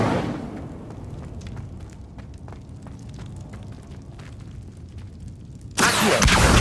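An Incendio fire spell cast in Hogwarts Legacy ends in a sudden loud fiery burst, after a stretch of quieter ambient crackling and ticking.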